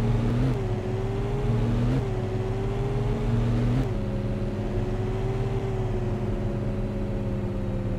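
Steady in-game car engine from Cattle and Crops driving across a farm field, a continuous droning hum with slight pitch shifts as the motor revs, close and alone with no talk.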